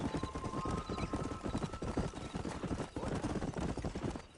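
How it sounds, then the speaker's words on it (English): Horse hooves clip-clop in a fast, continuous gallop in the Red Dead video game, dense and steady throughout, with neighing mixed into the busy galloping rhythm at close range. "Horse race."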